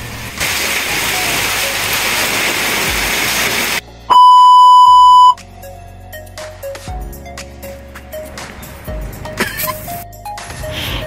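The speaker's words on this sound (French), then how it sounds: "le ciel était devenu tout sombre et la pluie n'a pas tardé" A steady hiss of rain in Bangkok fills the first few seconds, then a loud electronic beep cuts in, followed by quieter clatter and rumbling.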